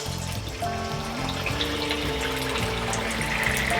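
Ingredients for a poha and potato tiffin, flavored with asafoetida and baking soda, sizzle steadily in hot oil with a continuous, close, hissing frying sound and no talking.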